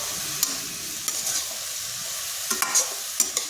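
A cabbage snack mixture with salt is stirred in a pan, giving soft, irregular scraping clicks and brief clattering taps over a faint steady sizzle, close by with no talking.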